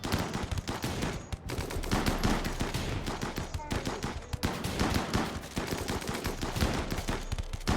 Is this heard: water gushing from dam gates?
no